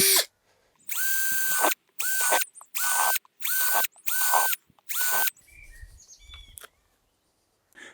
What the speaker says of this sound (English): So first thing I need to do is drill some holes in all of them.